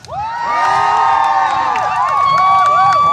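Spectators at a live jousting event cheer and whoop loudly, a dense sustained roar of many voices with high excited shouts rising throughout, no pause from start to finish.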